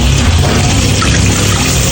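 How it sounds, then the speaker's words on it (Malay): Water pouring steadily into a cooking pot for Maggi instant noodles, a loud continuous splashing rush that holds without a break and has no talking over it. "Kemudian kita masukkan air"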